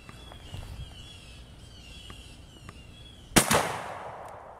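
A single shotgun blast fires a modified Hevi-Metal waterfowl round through a modified choke, a sharp loud crack with a short outdoor tail after several seconds of quiet ambient background.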